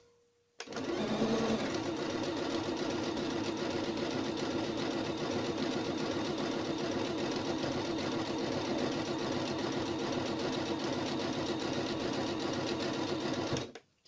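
A Pfaff sewing machine stitches continuously at a steady, fast rhythm for about twelve seconds, loud and close, starting abruptly and stopping cleanly, with no talking over it.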